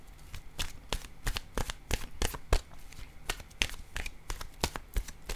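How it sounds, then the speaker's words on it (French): A deck of oracle cards shuffled by hand before one is drawn, heard as a quiet, close, continuous run of papery riffles and soft slaps in an uneven rhythm, with no talk. "Je vais piger maintenant une carte de mon oracle de l'âme intuitive."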